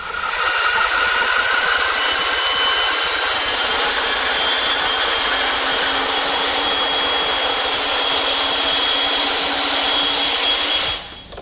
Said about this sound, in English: To remove the rest of the material, I'm turning to my bandsaw.